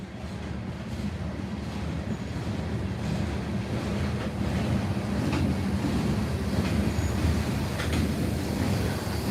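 A freight train rolls steadily past a porch with a dense, continuous roar and rumble, loud and close throughout, with wind noise on the microphone and no voices.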